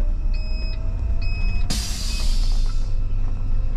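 A warning beep sounds on a 2006 Prevost Liberty coach as its tag axle is raised, two short high tones repeating over a steady low engine rumble, followed by a loud hissing burst of air.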